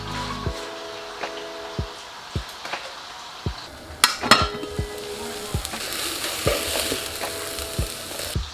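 King prawns in garlic sizzle steadily in a hot pan, with repeated clinks and scrapes of a utensil against the pan throughout.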